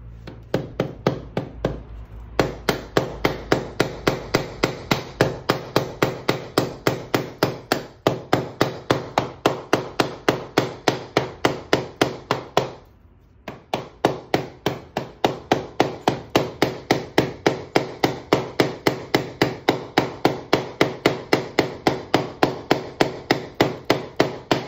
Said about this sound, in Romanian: Acum lovim ușor ca să intre.